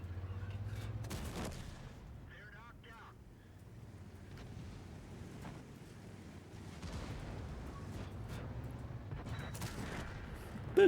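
A 122TM tank fires a high-explosive shell in a tank battle game: one sharp, heavy cannon blast near the start, followed by a low engine rumble and a windy background.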